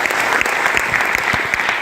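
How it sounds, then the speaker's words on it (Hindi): Dense applause from an audience at a Hindi-language business gathering, honoring a mentor in a direct-selling business; loud, steady clapping fills the whole stretch with no pauses. "उनके लिए एक बार जोरदार ताली हो जाए मिस्टर शैलेश सर"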